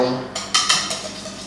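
A spoon clinks and scrapes against a bowl while treacle tart filling is mixed with an egg: several sharp metallic taps in quick irregular succession, close and moderately loud, with no speech.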